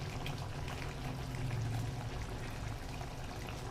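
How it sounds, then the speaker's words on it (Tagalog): Oyster sauce poured into a hot pan of stir-fried chicken, a faint soft trickle and sizzle that goes on steadily for a few seconds without speech. "Lagyan natin uli ng oyster sauce guys"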